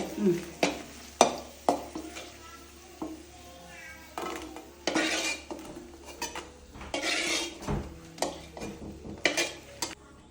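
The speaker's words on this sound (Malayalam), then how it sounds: "അപ്പൊ നമ്മള് മുളകൊക്കെ വറുത്ത് വെച്ചു." Dried chilies fry in a pan while a utensil stirs them, giving repeated sharp metallic clanks and scrapes over a steady close sizzle, with no talking.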